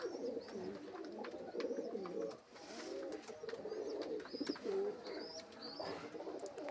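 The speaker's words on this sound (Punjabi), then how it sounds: "ਸਾਰੇ ਕਬੂਤਰ ਕਬੂਤਰੀਆਂ ਬੈਠੇ ਆ ਉੱਪਰ" Pigeons coo repeatedly in soft, rolling throaty calls, several overlapping nearby, with a few faint chirps above.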